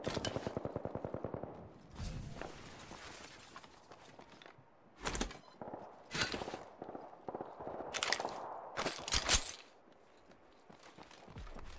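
Video game gunfire during a champion match: a rapid burst of automatic fire at the start, then scattered loud single shots and thuds alongside movement sounds, close and without speech.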